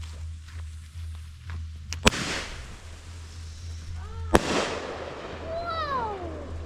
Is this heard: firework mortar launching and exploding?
yes